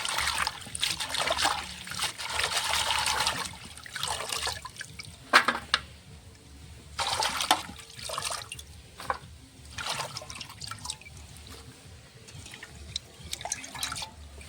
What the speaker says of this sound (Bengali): এখন শাকটা ধুয়ে নেব ভালো করে।